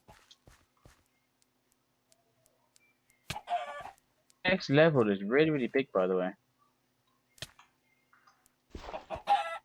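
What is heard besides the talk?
big chicken clucking and crowing, Farming Valley video game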